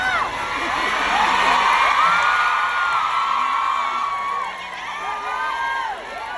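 Crowd cheering and whooping at a gathering of Filipino community members in a hotel in China, a sustained loud wash of voices with shouts, tapering slightly near the end.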